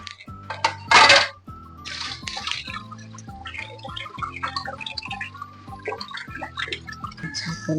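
A lid is lifted off a pan of frying surmai fish with a loud metallic clatter, followed by continuous frying sizzle and scattered clinks of utensils against the pan.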